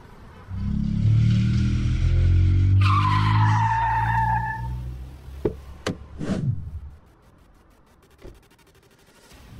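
A car pulls away with its tires skidding, a loud sustained engine roar and tire squeal over several seconds that fades as it drives off, followed by a few sharp knocks.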